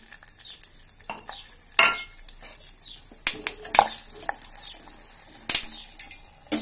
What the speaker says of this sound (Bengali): আমি গোটা গরম মশলা ফোড়ন দিচ্ছি, 2টো তেজপাতা, জিরে, শুকনো লঙ্কা